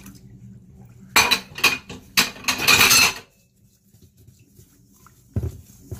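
Bursts of clinking and scraping as 320 g of water is mixed into sourdough bread dough in a bowl, several loud clattering stretches followed by quiet, then another short knock.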